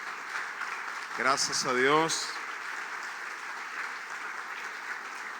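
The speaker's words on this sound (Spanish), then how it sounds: "Vamos a darle un buen aplauso al Señor," A congregation's applause fills a church as a steady wash of clapping under and around a single voice speaking briefly in the middle, the clapping continuing evenly after the voice stops.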